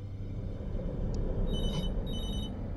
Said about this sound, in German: Telefon klingelt.